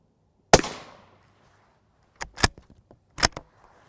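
A sharp rifle report from an M855 round fired at HEXAR alumina armor cracks once up close and rings off, followed by two further loud impacts after a short pause.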